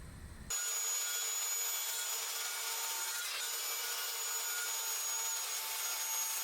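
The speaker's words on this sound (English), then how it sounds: "the circular saw is gonna be the only thing that makes a clean cut" A circular saw cuts through wood in a workshop, starting abruptly after a brief quiet moment and then holding a loud, steady, even whine for several seconds without pause.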